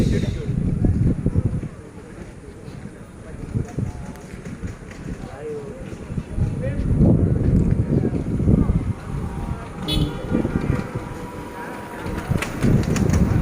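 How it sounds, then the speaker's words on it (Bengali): Strong wind roars and buffets the microphone in heavy, gusting rumbles by a lakeside while a person talks through it. "ওই যে এখানে দেখেন কত বাতাস হচ্ছে, অনেক বাতাস হচ্ছে দেখেছেন।"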